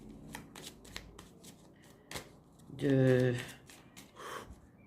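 Playing cards are handled and shuffled for a card reading. A soft riffle-shuffle whirs for about a second, between faint taps and rustles of the cards.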